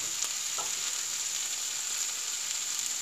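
Basil shrimp with yellow mushrooms being stirred in a hot pan, a steady close sizzle of frying with faint scrapes of stirring throughout, no voices.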